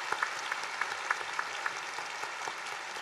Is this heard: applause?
yes